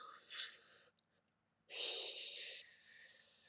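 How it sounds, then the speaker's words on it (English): A person takes deep breaths, two drawn-out airy breaths separated by a short pause of silence, close and fairly soft. "I have to do some deep breathing"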